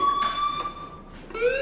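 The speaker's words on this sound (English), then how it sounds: "do you hear that fire alarm? That means you should be outside." A fire alarm in the video game Life is Strange sounds as a loud, steady electronic tone with a short pulsing break, close and clear, with no talking.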